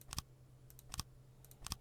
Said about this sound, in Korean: 방향키를 이용해서 이렇게 몸을 돌려보면서 키보드 방향키로 돌려보면서